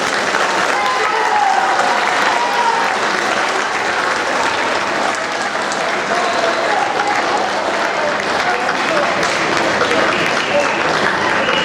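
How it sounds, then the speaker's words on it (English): A school audience gives sustained, even applause for 7th grade award winners, the clapping loud and continuous from start to finish with a faint murmur of the crowd. "Let's give them a round of applause."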